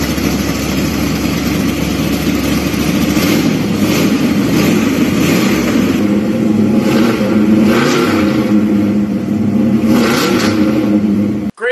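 A custom-built 440 engine in a truck revs hard and close, a deep, throaty roar that rises and falls in repeated pulls over a constant loud rumble, then cuts off abruptly.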